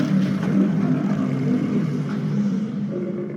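A giant Olmec stone head boss in a Mario video game gives a low, droning growl, a rumbling, hoarse roar held steady for a few seconds, loud and unaccompanied.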